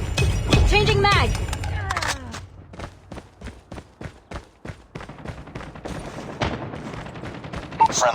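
Rapid assault rifle bursts in Call of Duty multiplayer ring out as a string of sharp, evenly spaced shots, loud and close, under a busy game soundscape of scattered effects, with announcer-style voice lines.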